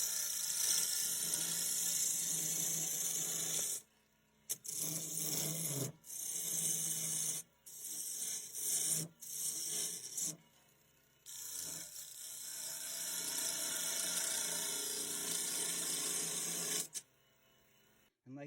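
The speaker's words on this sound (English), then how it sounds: "Or I can come in and cut and pull ribbons." Flat chisel on a wood lathe cutting into spinning wood, a steady bright hiss of the cut running in long stretches broken by short pauses, loud and close with no talk.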